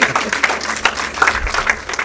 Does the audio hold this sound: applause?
yes